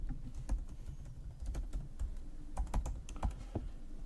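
Password typed on a computer keyboard while setting up a user for Portainer on Umbrel OS: a quick, uneven run of close, crisp key clicks in small bursts over faint room hum, with no talk.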